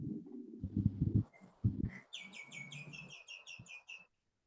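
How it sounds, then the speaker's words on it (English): A songbird sings outside an open house window, a rapid run of bright high chirps after people talk nearby. "Which bird is singing over there?"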